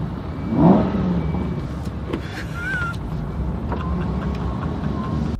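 An Aston Martin engine rises in a brief throaty rev heard from inside the car, then settles into a low steady drone with road rumble.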